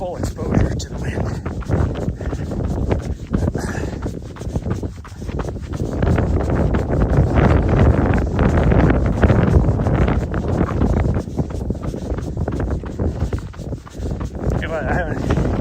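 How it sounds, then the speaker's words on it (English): Strong side wind buffets the microphone on an exposed trail during a morning trail run, a continuous loud roaring rumble with gusty swells, while a person talks over it. "Right side wind coming straight into us. Full exposure to the wind."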